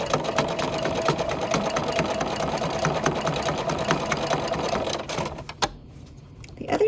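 A sewing machine stitching down quilt binding runs in a steady fast rhythm of needle strokes for about five seconds, then stops, leaving a brief click and quiet.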